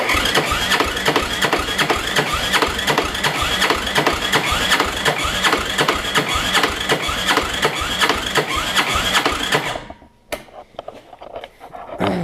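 A Yamaha Raptor 250 ATV engine is cranked on the starter with the throttle wide open during a compression test. It gives loud, rapid, evenly spaced chugging pulses for about ten seconds, then stops abruptly, leaving faint clicks and rattles.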